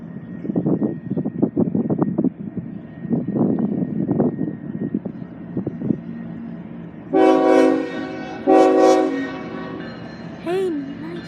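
CSX locomotive 3059 leading a freight train in Mobile, Alabama, rumbles and squeals slowly past before its horn blasts in two loud, sustained chords followed by a shorter toot, close by and dominating the scene.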